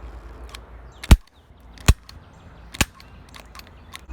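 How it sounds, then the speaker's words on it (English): A stapler is fired at a weird fungus, giving three sharp, loud snapping clacks spaced roughly a second apart over quiet background, with a few fainter ticks between them and no talking. "I'm gonna shoot it with a stapler."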